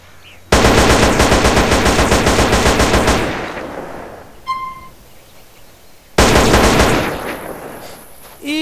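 Rapid automatic gunfire from a modded weapon in GTA San Andreas rattles loudly in two long bursts, with a short pause of quieter ringing and clinks between them.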